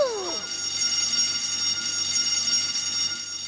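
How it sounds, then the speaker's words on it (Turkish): Cartoon fire alarm in a classroom, a steady loud electronic ringing that fills the whole stretch, with a brief sliding tone at the very start. "Evet çocuklar, bu bir yangın alarmı."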